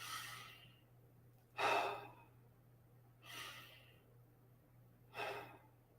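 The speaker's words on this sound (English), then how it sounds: "Take a couple deep breaths." A few slow, deep breaths drawn and let out one after another in a quiet room, each soft breathy swell separated by a pause of near silence over a faint steady hum.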